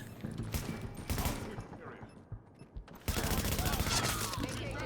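Gunshots crack in a shooter video game set at the Russian Consulate on insane difficulty, with dense rapid bursts, a brief lull in the middle, then another heavy volley, close and loud, with a voice talking faintly underneath.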